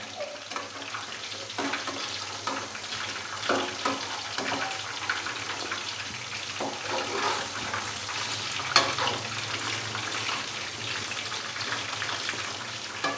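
Chicken pakora fries in hot oil with a steady crackling sizzle, and occasional scrapes and knocks come from stirring the pieces, all moderately close and with no talking.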